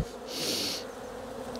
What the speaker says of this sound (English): Bees are all down there buzzing away.